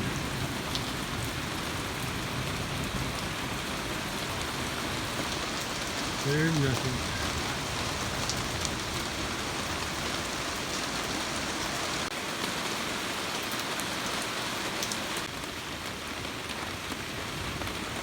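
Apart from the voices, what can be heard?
rain falling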